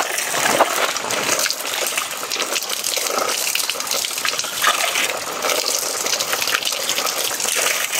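Water gushes steadily from a forest spring in Mindoro, a continuous close splashing flow with no breaks and only faint background sound.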